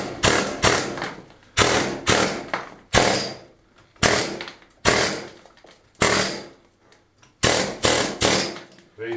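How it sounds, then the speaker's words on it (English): An air hammer chips old lime plaster off a stone wall in a kitchen cave, firing in loud repeated bursts of rapid rattling impacts separated by short pauses. "I'm using an air hammer instead of the big chisel"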